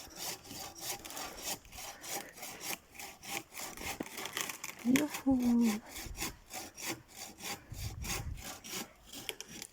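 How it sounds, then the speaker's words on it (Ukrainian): Steady back-and-forth rasping of a handsaw cutting off a tree branch, rhythmic strokes continuing throughout, close by, with a brief voice and outdoor noise in the middle. "давай зараз саме процес, як Давид відпиляв геляку"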